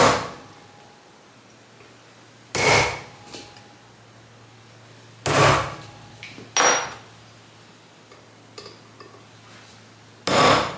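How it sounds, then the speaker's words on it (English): A center punch is struck by hammer on metal while preparing tender inner frames for drilling: four sharp, separate metallic taps, one with a quick second knock, over a low steady workshop hum. "We'll use our dot punch and then our centre punch to open the pot mark up."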